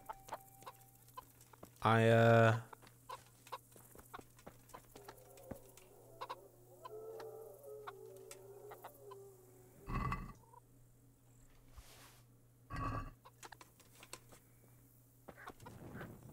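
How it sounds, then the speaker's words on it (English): Chickens cluck in Kingdom Come: Deliverance, with a loud burst of squawking near the start and a few further clucks scattered through the game's quiet ambience, and someone speaks briefly. "Maybe if I call out to the chickens, they'll hear me."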